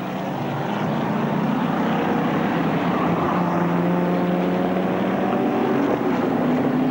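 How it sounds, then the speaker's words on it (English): Holden Commodore production race cars at Bathurst in 1987, engines droning loudly and steadily as several cars run together toward a left-hand corner, the pitch slowly rising and shifting. "3 Commodores in for a great scrap as they come down towards the left-hander at the Caltex Santra."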